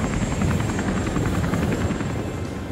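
A helicopter engine in the video game World's End Club drones steadily and loudly throughout, with a constant whirring rotor hum and no speech.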